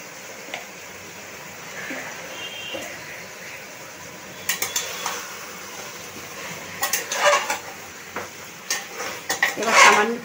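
Chili powder and tomato in a cooking pot are stirred with a metal spoon, giving quiet scraping and clinks that grow busier and louder toward the end over a faint sizzle.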